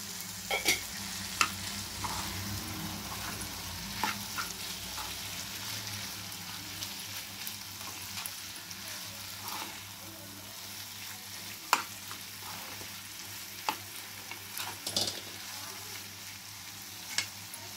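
Raw banana curry fries in a pan and is stirred, with a continuous moderate sizzle and intermittent scraping clicks and taps from the utensil over a low steady hum.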